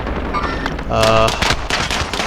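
Assault rifle fire in Warzone rattles out in rapid bursts, loud and close, with a short gap before a second volley of sharp shots.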